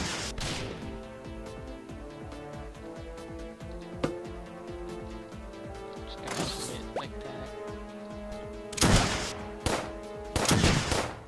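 Gunfire from a powerful weapon in the Starbound video game, a series of sharp shots and crashing bursts over continuous tonal game music, several louder blasts clustered toward the end.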